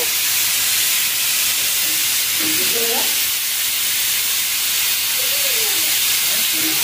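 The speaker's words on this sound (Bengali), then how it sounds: "আমরা আমাদের সিটি উঠতে শুরু করেছে" A pressure cooker cooking mutton curry releases a continuous, steady steam hiss from start to finish, with a few faint brief tones underneath.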